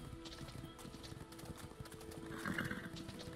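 Horse hooves clip-clop in a steady, rhythmic gait while riding in the video game Aron's Adventure, moderately loud and alone, with a brief whinny-like burst near the end.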